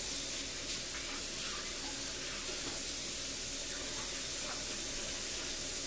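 A kitchen tap runs continuously as a knife is rinsed under it, a steady close hiss of splashing water with faint clinks from the blade.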